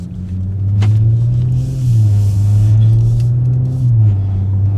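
A 2018+ Audi S5 Coupe fitted with an MBRP quad rear exit cat-back exhaust idles with a deep, loud, steady rumble up close, with a couple of slight dips and rises in pitch.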